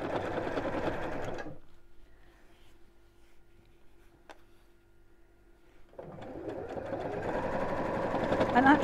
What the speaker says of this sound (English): we start sewing right on the edge of this crease again and carry on